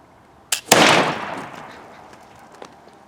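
A single sharp report from a .45 caliber flintlock fired through an eggplant used as a suppressor, preceded by a short crack of the priming flash and followed by a decaying whoosh and a faint later tap.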